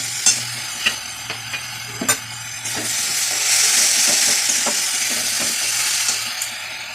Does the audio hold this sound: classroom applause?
no